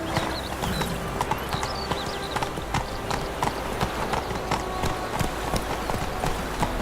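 Roach, the horse in The Witcher 3, gallops with rapid, steady hoofbeats, close and continuous over a background of in-game ambience, with a brief voice.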